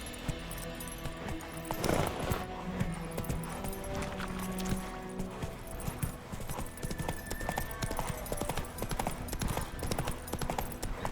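Roach, the horse in The Witcher 3, gallops with a fast, steady clip-clop of hooves close by, under music and occasional gear rattle, alongside a brief snort.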